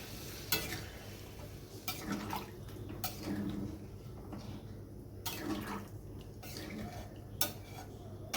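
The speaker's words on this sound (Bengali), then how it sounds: "এবার আমি দিয়ে দেব এই বাটিতে 1 বাটি জল" A cooking pot simmers with stirring and utensil clatter as water goes in, low sizzling and spoon scrapes against the vessel; no talking.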